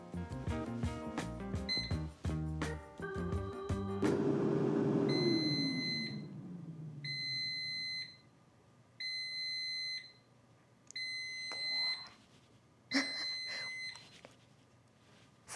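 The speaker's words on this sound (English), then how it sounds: "it's kind of annoying that it beeps 4 times" After some musical notes and a fading whoosh, an Aicook air fryer emits four evenly spaced electronic beeps, clear and close, with a final shorter chirp.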